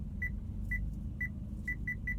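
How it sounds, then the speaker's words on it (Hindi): The reverse parking sensor of a Maruti DZire ZXi beeps at a steady, fairly slow rhythm, six short high tones over a low engine rumble inside the car. "अभी बीप थोड़ी और तेज होनी चाहिए,"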